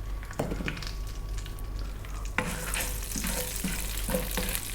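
Whole spices fry in hot oil in a pan: peppercorns, cloves, fennel seeds and black cardamom. They give a close, steady sizzle and crackle with a sudden burst of sharper hissing midway, and light stirring clicks follow.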